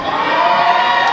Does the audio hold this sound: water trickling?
no